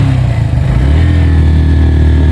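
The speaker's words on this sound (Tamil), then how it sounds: "பைக்கும் கஷ்டப்பட்டு தான் இருக்குது." A motorcycle engine labours steadily uphill on a mountain road near Horton Plains in Sri Lanka, a loud, continuous low drone held close and alone throughout.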